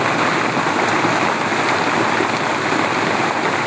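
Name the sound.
heavy rain falling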